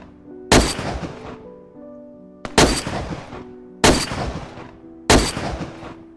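Four heavy gunshots boom one at a time from a powerful gun in the video game DayZ, each a sharp loud crack with a ringing tail, spaced about a second or more apart.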